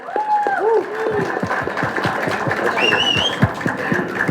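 The audience at a Kannada movie trailer launch event for Talwar claps loudly, with sharp repeated claps, shrill whistles and voices mixed into the cheering.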